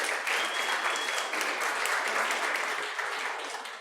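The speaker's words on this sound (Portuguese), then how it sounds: "Salva de palmas para vocês aí." A crowd applauds steadily, dense clapping at even volume throughout that fades slightly at the end.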